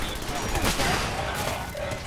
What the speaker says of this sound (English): Shit's exploding over here.